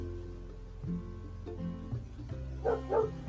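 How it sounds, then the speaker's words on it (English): Dogs bark and yip several times in short, irregular bursts at moderate distance, over a steady low electrical hum. "if you hear dogs barking, it's because every time I press record, they start barking"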